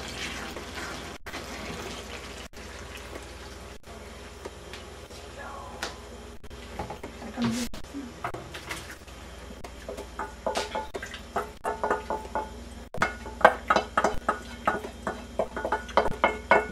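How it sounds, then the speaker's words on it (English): Grease and juice drained from cooked hamburger meat for lasagna, liquid pouring and dripping with clinks of a pan, growing into splashy bursts near the end. "So you drain all the juice, see all that grease"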